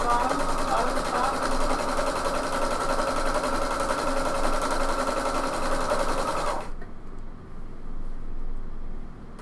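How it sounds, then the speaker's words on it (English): A sewing machine runs steadily while top stitching a pair of pants, a loud continuous whirring hum that stops abruptly near the end, followed by quieter room sound. "Okay, so this is just a simple top stitching."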